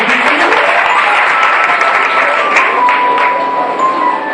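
A church congregation at a Sunday service applauds loudly and continuously, dense clapping filling the space with a faint background voice.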